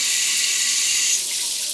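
A hotel shower runs with good water pressure, giving a steady, close hiss of falling water that holds even throughout and eases slightly toward the end.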